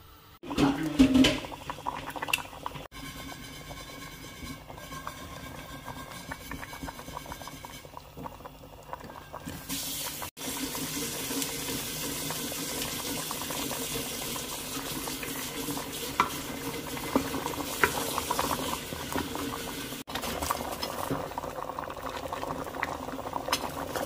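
Meat simmers in a pot of water for balbacua, with steady, continuous bubbling and a low rolling boil that gets louder after a sharp clunk partway through, close and even throughout.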